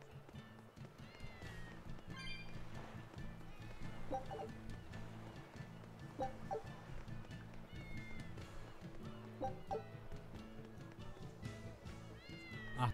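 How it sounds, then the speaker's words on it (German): Several cats meow in the Tales of Berseria game, short repeated mews scattered over a steady looping music bed, with faint footsteps and other game sounds mixed in. "Ach, das sind mehrere Katzen."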